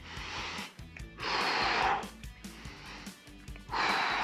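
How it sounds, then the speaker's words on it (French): Heavy breathing during a bodyweight HIIT fat-burning workout: strong, breathy exhales come in regular bursts about every second or so over a low musical beat, close to the microphone. "Je souffle au moment où je remonte."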